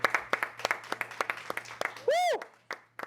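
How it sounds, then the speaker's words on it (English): A few people clap for themselves at a podcast recording, with sharp, separate handclaps repeating in an uneven rhythm, nearby and fairly loud, before a whoop or cheer rises near the end. "let's clap it up for ourselves"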